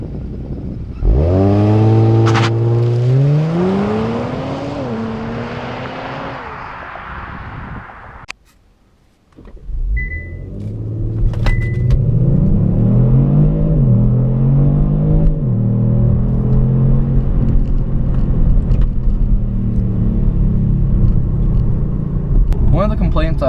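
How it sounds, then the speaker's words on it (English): A Kia Stinger fitted with a Pedal Commander in Race Plus mode does a launch-control start with traction and stability control off: a loud engine rev climbing through gears, a brief gap at a shift, then strong sustained acceleration, up close. "Launch control with Race Plus mode on the remote."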